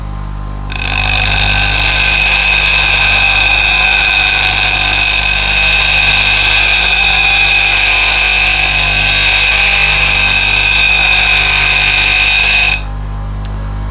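A blade held against a motorized sharpening wheel, a loud continuous grinding whine with a strong steady pitch and low motor hum, starting and stopping abruptly, with no talk.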